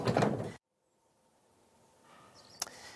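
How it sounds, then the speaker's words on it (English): The sliding side-loading door of a Nissan NV300 van rolls and shuts: a loud slam at the start, then a quiet rumble of the door running on its track, ending in a sharp click. "there's a standard near-side side-loading door and an optional off-side one"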